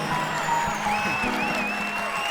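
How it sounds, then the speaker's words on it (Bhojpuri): Audience applause at a stage show greets a performer being welcomed on stage, a steady wash of clapping that fills the clip, with faint tonal sounds running beneath it. "जोरदार ताली होनी चाहिए।"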